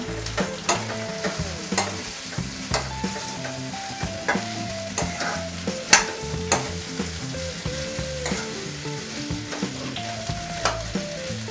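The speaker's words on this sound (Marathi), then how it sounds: "आता चांगलं एकजीव करून घेऊया" A spoon stirs a fasting-dish mixture of sugar and roasted peanut powder in a pan, producing soft repeated scraping and tapping strokes at a steady rhythm. Some light sizzling runs underneath, and nobody speaks.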